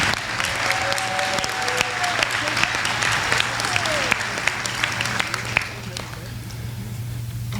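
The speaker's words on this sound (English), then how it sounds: "How about a round of applause for all of our service award recipients this evening?" Applause for service award recipients at a sheriff's office awards dinner, a full room clapping steadily with a few whoops rising over it, fading out near the end, over a constant low hum.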